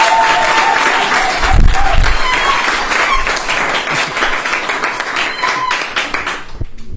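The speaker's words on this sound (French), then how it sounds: "Est-ce qu'on peut applaudir pour eux?" An audience claps for a medical team at a testimonial event, a loud, dense burst of many hands that holds steady and then thins out and stops near the end.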